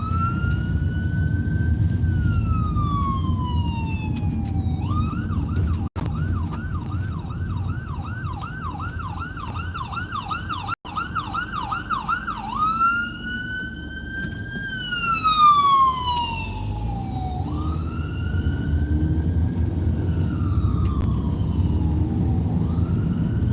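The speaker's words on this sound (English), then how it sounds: "You ever heard a town with so many sirens?" An emergency siren wails up and down, then switches to a rapid yelp before returning to long sweeping wails over low traffic rumble.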